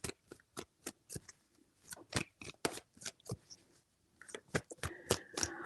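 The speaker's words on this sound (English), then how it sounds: "3 shuffles." Tarot cards are shuffled in a quiet room, giving a series of crisp riffling snaps and taps in irregular bursts, close and soft, with no talking.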